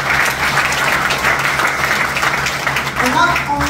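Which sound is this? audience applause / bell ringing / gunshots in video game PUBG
audience applause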